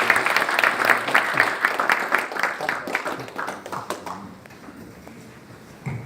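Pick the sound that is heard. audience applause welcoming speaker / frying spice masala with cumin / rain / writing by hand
audience applause welcoming speaker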